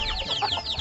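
Chickens clucking in a poultry flock where some birds are sick, a quick burst of overlapping nasal clucks and chirps, close and moderately loud.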